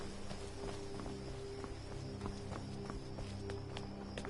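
Horse hooves clip-clop steadily in the Skyrim video game, a regular walking rhythm of soft thuds set against a constant ambient game background with no voices.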